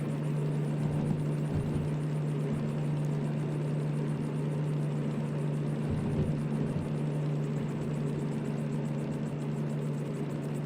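A diesel locomotive runs under throttle in the train simulator game Derail Valley, a steady low engine drone with a strong humming tone that holds evenly throughout, near and alone.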